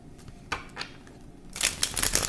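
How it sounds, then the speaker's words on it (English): Tarot cards being shuffled: soft scattered rustles early on, then a denser, louder burst of riffling cards near the end, with no talking. "I'm going to shuffle."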